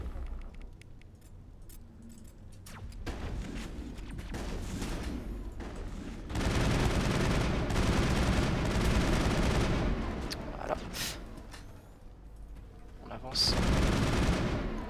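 Shotgun blasts and gunfire erupt in the sci-fi shooter Mass Effect, loud bursts at intervals over a rumbling, busy game mix with steady background noise.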